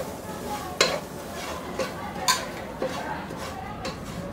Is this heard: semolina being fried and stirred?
yes